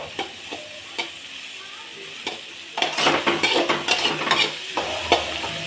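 Bitter gourd frying in a pan with a little oil, a soft sizzle under repeated scraping stirs and clinks of a utensil against the pan, growing busier midway, close and alone.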